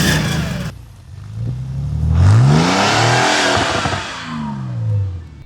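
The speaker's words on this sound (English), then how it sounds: "Now let's hear some of those Flat 6 engines." A Porsche 911 G-body flat-six engine revs up in a rising, surging roar, then holds and drops back to a steady drone, loud and close with no voices.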